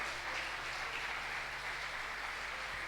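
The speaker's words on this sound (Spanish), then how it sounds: "Dale un fuerte aplauso al Rey de Gloria." A church congregation at a Sunday service claps together in a brief, quiet, even burst of applause that stays steady for a few seconds, with no talking over it.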